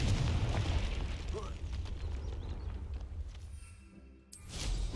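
A Confringo spell explosion in the game Hogwarts Legacy, a dense rumbling blast with crackling debris that fades, followed by a brief silence and a fresh burst of noise at the end.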